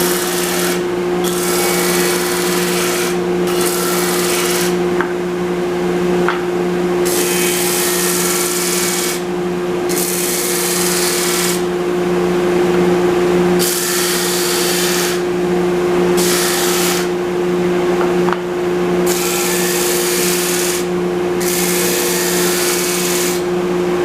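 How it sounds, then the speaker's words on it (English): A wooden pattern piece is sanded flat on a stationary power sander in a pattern-making shop, a loud continuous whine and hum with brief dips as the wood is pressed on and lifted off, without speech. "I'm gonna go over to the sander, get myself a flat surface."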